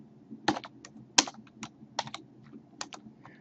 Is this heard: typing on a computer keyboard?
yes